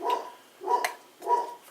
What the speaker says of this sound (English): you can probably hear the dog barking on